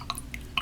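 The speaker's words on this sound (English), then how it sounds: "I'm going to grab some water, dunk my brush into it" A paintbrush is dunked into a container of water, giving several small bright drips and splashes in quick succession, close and fairly quiet.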